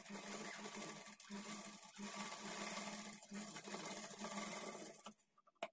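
A sewing machine stitches a dart at a blouse armhole with a quarter-inch margin, running in a continuous, even whir with slight pauses before stopping near the end.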